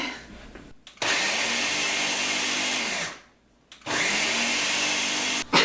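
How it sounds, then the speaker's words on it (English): A food processor whirs loudly, blending a gluten-free falafel mixture of beans into a smooth paste in two sustained bursts, with a short pause between runs and a brief restart near the end. "we're just gonna process it until it's smooth"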